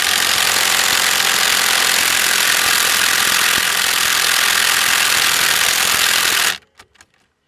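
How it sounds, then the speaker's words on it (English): A battery impact wrench hammers continuously on the CV axle bolts of a 2014 Kawasaki Teryx4, a loud, close, rapid rattling buzz lasting about six seconds before cutting off abruptly, followed by a few faint clicks. "We're going to try and buzz it off with the impact"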